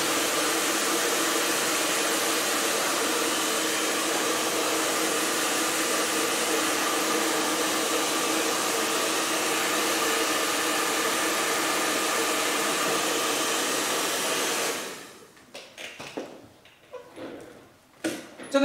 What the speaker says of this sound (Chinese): 先把它吹干一下